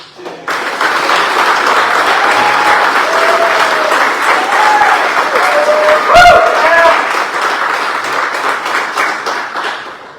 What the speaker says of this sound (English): Can I have one more round of applause for Kate?